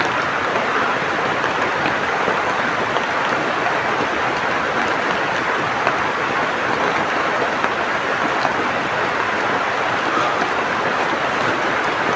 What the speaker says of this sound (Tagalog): Ang lakas pa ng ulan mga tol.